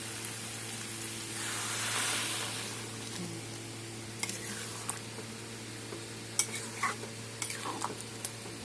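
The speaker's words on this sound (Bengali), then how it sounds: "এখন গরম জল করে দিয়ে দেবো" Hot water poured into a sizzling jackfruit and goat liver curry, a broad rushing hiss swelling early then settling into steady sizzle with scattered clinks and scrapes of a utensil, no talking.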